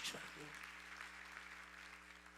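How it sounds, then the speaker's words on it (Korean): A congregation claps hands together during a Wednesday church worship service, producing a dense, sustained wash of applause that continues steadily throughout, with a voice briefly heard at the very start. "박수 치라고 박수 치라고."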